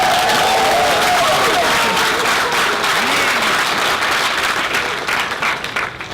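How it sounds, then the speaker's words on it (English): A convention panel audience at Anime NYC 2017 applauds and cheers, dense continuous clapping with some whoops and crowd voices mixed in, staying loud before tapering slightly at the end. "can you guys give yourself a round of applause?"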